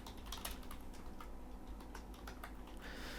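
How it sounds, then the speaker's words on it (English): Keys clatter on a computer keyboard as a password is entered, a quick burst of light, close clicks over a steady low hum, with no talking. "And we'll type in their password."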